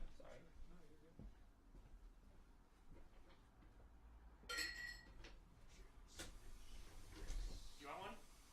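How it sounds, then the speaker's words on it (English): A drinking glass clinks as someone fetches water indoors, with a cupboard or door knocking nearby and a few short clinks and taps amid quiet room noise, with people talking briefly around it. "get a glass of water actually first?"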